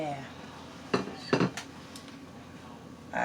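A watermelon knife slices through a freshly baked, cooled loaf of bread: a few short broadband crunching strokes close up, separated by quiet pauses, with a faint clink near the end.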